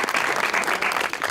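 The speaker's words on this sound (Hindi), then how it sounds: "आइए जी, आपकी भरपूर तालियों में अदील बरकी" Studio audience applauding on a TV talk show as a singer is welcomed, a short burst of steady, fairly loud clapping.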